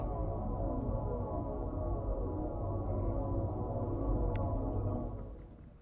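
A steady low electronic hum of a tractor beam in Star Trek Resurgence, holding evenly with faint high pings and fading out near the end.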